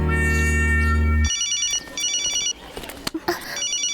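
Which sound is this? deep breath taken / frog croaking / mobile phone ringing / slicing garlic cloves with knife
mobile phone ringing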